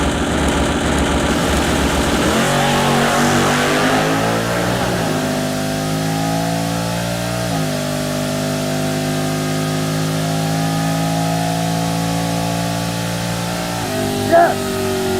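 A 1967 Camaro drag car accelerates hard on a run, its loud engine climbing through rising pitch sweeps with gear changes, then holding a strong high drone as it pulls away.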